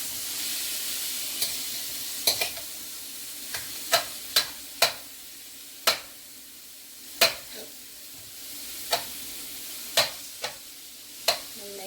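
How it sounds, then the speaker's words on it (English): Minced stuffing ingredients for stuffed crab shells sautéing in a pan, a steady loud sizzle with sharp utensil scrapes and taps recurring every second or so. "I'm gonna go ahead and saute this a little bit."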